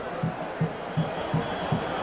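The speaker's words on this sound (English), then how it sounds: "Very warm welcome from this packed crowd for yesterday's man of the match, Carl Hooper." A packed stadium crowd at a 1998 West Indies versus England one-day cricket international in St. Vincent welcomes an incoming batsman with a broad, distant roar and rhythmic, evenly spaced claps or drumbeats.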